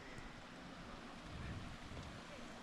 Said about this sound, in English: you can hear the water rushing in the back there